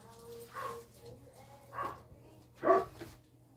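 A dog at a grooming service barks three times, spaced about a second apart, the last bark loudest, heard indoors at moderate distance without talk.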